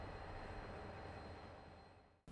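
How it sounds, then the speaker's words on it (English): A KiwiRail DFB class diesel-electric locomotive, originally a General Motors of Canada DF class, rumbles past as a steady, faint broadband roar of train noise that fades slightly before cutting off. "Motive power is provided by KiwiRail's DFB class diesel-electric locomotives"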